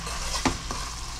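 Spices sizzle and fry in a cooking pot for a wheat dish, a soft continuous crackle broken by two quick stirring knocks near the middle.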